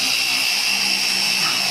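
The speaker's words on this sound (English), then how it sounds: "Keep the machine moving so you don't heat up the paint." A power polisher works over the paint of a 1995 Dodge Viper RT/10, giving a steady, loud, unbroken whine and hiss that holds constant throughout with no pauses or talk.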